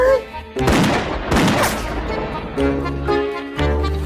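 Bursts of gunfire in a heist shooting video game: loud, close volleys of rapid shots with sharp crashing impacts, followed by a couple of heavier single blasts, with game music or tones between them.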